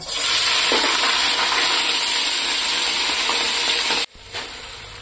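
Cooked rice tipped into a hot pan with cardamom and spices and stir-fried for chicken chilli fried rice, giving a loud, steady close sizzle that cuts off abruptly near the end.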